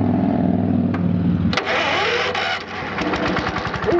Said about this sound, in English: Probably won't crank, but we'll try it. Air starter.